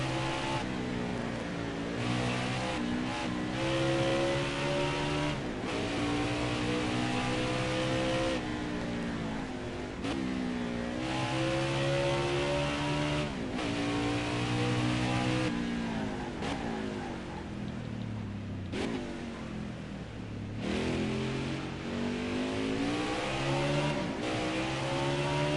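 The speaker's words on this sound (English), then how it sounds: "hear the roar of the engines" Race car engines roar steadily in a NASCAR Heat 4 Cup race at Sonoma, a loud, continuous drone with rising and falling pitch sweeps as cars accelerate and shift, no talking over it.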